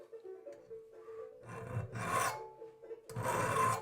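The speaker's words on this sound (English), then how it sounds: "do a little filing to set the bevel on the blade" Metal file strokes rasp across a carving knife blade clamped in a vise, setting a bevel: several distinct, loud scraping passes close by, separated by short pauses, with no talking.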